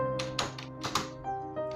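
Clacking keystrokes on a computer keyboard whose USB cable was just repaired, a quick irregular run of close, crisp taps and thunks with no talking.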